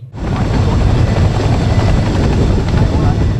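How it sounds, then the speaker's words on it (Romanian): IAR Puma and American Black Hawk military helicopters during a Romanian-US military exercise, a loud, close, continuous rotor and engine roar that fills the whole stretch, with a voice talking beneath it. "Elicoptere IAR Puma, elicoptere americane Black Hawk"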